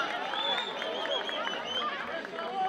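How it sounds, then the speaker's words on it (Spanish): Audience applause at Armonía Show, a live show in Tunte, a dense sustained wash of many hands clapping with crowd cheers and chatter mixed in, steady and loud for the whole stretch. "¡Aplauso arriba!"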